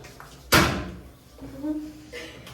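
A door is opened with a sharp loud bang or knock at the start, then a voice speaks briefly and a softer rustle follows in an indoor room.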